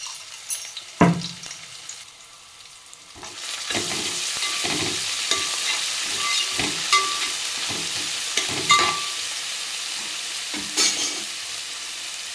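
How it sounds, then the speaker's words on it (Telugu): Ground masala and ginger-garlic paste hit browned onions in a hot pan and sizzle steadily. A sharp clatter comes first, then repeated stirring scrapes over continuous frying. No voices are heard. "ఇదిగోండి ఉల్లిపాయలు ఎర్రగా అయిన తర్వాత ముందుగానే దంచి పెట్టుకున్న మసాలా వేయాలి"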